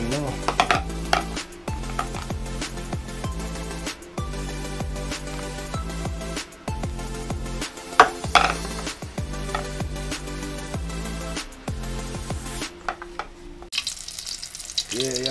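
Fish frying in a pan, a steady loud sizzle with scraping and stirring over a background of music with a strong beat, continuing throughout.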